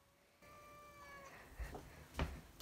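A cat gives a drawn-out, wavering meow, fairly close, followed by some thumps and rustling nearby.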